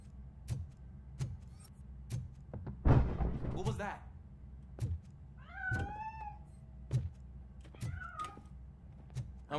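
A cat meows a couple of times in the video game Robocop: Rogue City, short rising calls amid background game noise, with a brief burst of clatter near the start.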